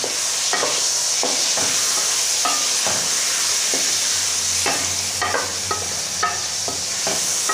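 A spoon stirs salt into a pot of chicken vegetable soup, scraping and clinking in irregular strokes against the pot over a steady background hiss, close and fairly loud with no talking.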